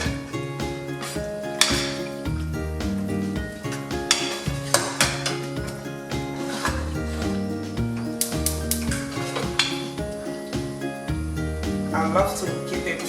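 Sauce is stirred into peppered goat meat frying in coconut oil, a steady sizzle with repeated scraping and clinking of a utensil against the pot, partly under background music.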